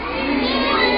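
A bar crowd at a live concert and autograph event in Tianjin cheers and shouts loudly, a dense wash of voices and applause filling the whole moment with no single speaker standing out.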